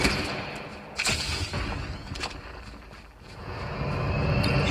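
An airdrop plane in Call of Duty Mobile roars overhead in a steady, loud engine drone, broken by sharp gunshot cracks and distant booms.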